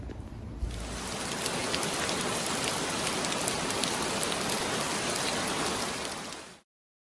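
Heavy rain from a monsoon storm in the Mojave pours down in a dense, steady hiss with scattered drop impacts, swelling in over the first second and cutting off abruptly near the end.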